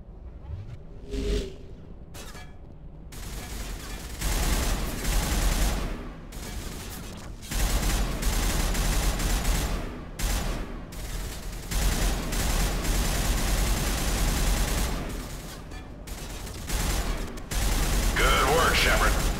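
Bursts of gunfire in Mass Effect's Pinnacle Station combat simulator, repeated volleys of rapid shots separated by brief pauses, loud and sustained, with voices speaking between bursts.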